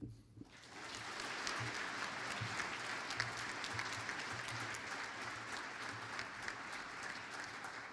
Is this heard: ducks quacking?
no